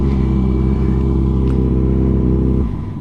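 Dank Wheelie's torquey stunt motorcycle holds a loud, close, steady high rev, then the engine note drops away abruptly near the end.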